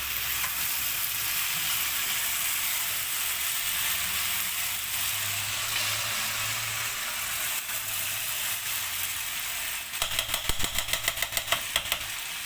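Okra masala sizzling in a pan while a spoon stirs it continuously, a steady close frying hiss with scraping, then a burst of rapid metallic clicks near the end.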